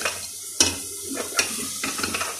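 Chana dal masala being stirred and fried in a pan: a steady sizzle with sharp scraping and clinking strokes of the spoon against the pan, close and clear, with no voices.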